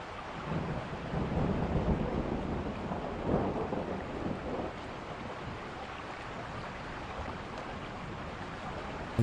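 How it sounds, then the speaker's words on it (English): Thunderstorm ambience in the video game The Guest, with dense rain and rolling thunder rumbles rising and falling, loudest early on and then easing into a steady downpour. "A little bit of thunder there."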